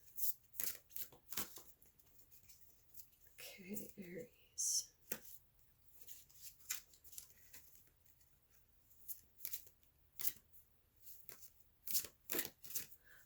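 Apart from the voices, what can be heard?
shuffling tarot cards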